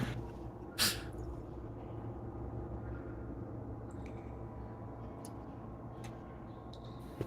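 Water drips in a cave, with sparse single drops falling faintly over a steady low rumbling ambience and one brief louder burst near the start.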